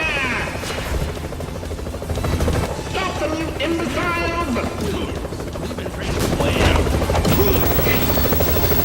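A helicopter in the Double Dragon Neon video game roars loudly and continuously, with rapid gunfire-like rattling and mechanical clatter, while a voice shouts over the din.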